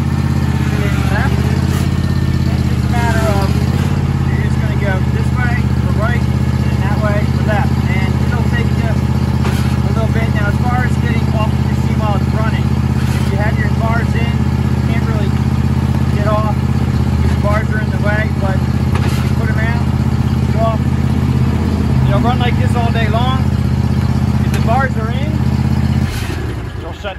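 A Toro TimeCutter SS5000 zero-turn riding mower engine runs at a steady, loud idle throughout, a constant low rumble while someone talks over it.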